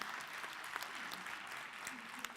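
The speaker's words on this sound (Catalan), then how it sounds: "podeu aplaudir, sí, home, sí" Audience applause in a school hall during a student showcase event, a dense, steady wash of clapping from a crowd heard at a distance, with voices faintly mixed in underneath.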